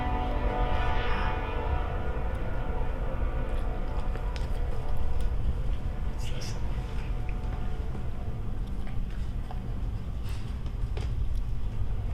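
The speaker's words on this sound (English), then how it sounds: "And then the train came by" Steady low rumble of a passing train, continuous and fairly distant, holding at an even level for the whole stretch with faint higher squeals and clatter on top.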